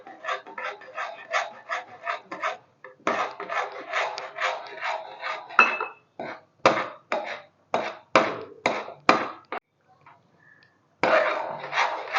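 A spoon rapidly stirs and scrapes semolina into boiling water in a pan for upma, a series of rhythmic rasping strokes in bursts with a short pause, close and fairly loud.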